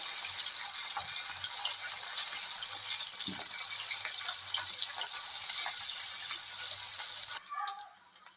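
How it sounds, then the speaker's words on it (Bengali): Fish, small puti fish for a kochur loti recipe, sizzle and crackle steadily in hot oil in a kadai, a dense continuous frying hiss with faint clatter, fading abruptly near the end. "তেল গরম হয়ে গেছে, মাছগুলো ছেড়ে দিলাম"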